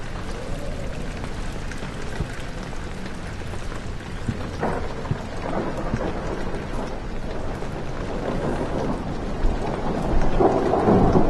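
Steady rain patters and hisses through Amnesia: The Dark Descent, with low rolling thunder rumbling beneath it. The storm swells slightly louder toward the end.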